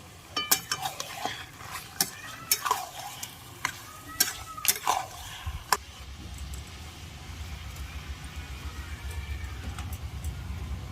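Marinated chicken pieces hit a hot pan for a Bengali chicken kosa, giving a steady frying sizzle under a run of sharp metallic clanks and scrapes from stirring that fade after a few seconds, leaving only the sizzle.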